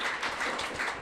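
Brief burst of audience applause at a Lafayette, Louisiana town hall, dense and steady with no voices standing out over it.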